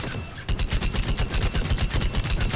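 Rapid, evenly spaced bursts of Gladius shotgun-style fire from Mass Effect 3 ring out loud and close after a brief lull, about a dozen punchy shots in a steady rhythm.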